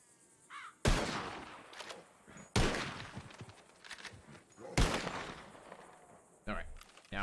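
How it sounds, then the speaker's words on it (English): Three sharp gunshots from a firearm in a Western roleplay game, spaced about two seconds apart, each a loud crack with a short decaying tail. Faint ambient noise fills the gaps. "Dalton, give me 3 shots in the center mass for now, okay?"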